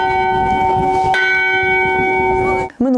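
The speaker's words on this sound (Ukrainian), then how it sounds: "Одна із цілей дзвону у разі надзвичайних ситуацій сповіщати громаду про небезпеку" A loud church bell rings with a long, humming resonance, struck again partway through, the tone sustaining until a sudden cutoff at the end.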